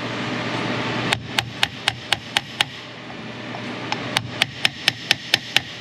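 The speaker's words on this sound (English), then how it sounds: "All these expensive tools and I'm over here hammering things in with sockets." A socket used as a drift hammers an axle seal into a 2015 Cadillac SRX, giving sharp metallic taps in two steady bursts of about six to eight blows each, close and loud over a quiet workshop background.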